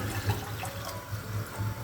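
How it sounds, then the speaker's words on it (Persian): Water poured into a pot to make sugar syrup for candied citron (bergamot-like balang) jam, two glasses of water for 150 g of sugar; a steady splashing, gurgling pour heard up close, with no talking. "واسه 150 گرم شکر 2 لیوان آب میریزم."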